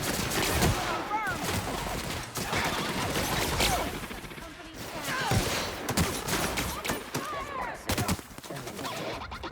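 Gunfire rings out in The Outer Worlds video game, repeated sharp shots and bursts cracking loudly across the whole stretch, with a few chirping in-game sounds mixed in between.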